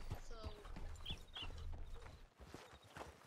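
Horse hooves clip-clopping in a video game, several horses passing at a walking pace with quiet, irregular hoof beats, faint background ambience and some voices.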